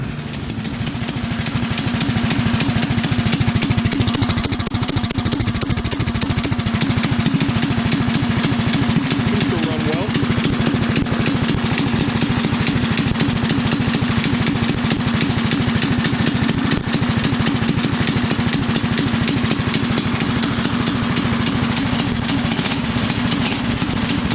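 A small engine fitted with a rebuilt carburetor runs loud and close for the whole stretch, with a steady rapid buzzing drone and a slight surge in pitch partway through.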